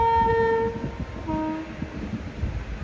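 Express train pulling into a junction station in Gujarat, a horn blaring at the start over the steady rumble and clatter of rail cars rolling close by, with no talk.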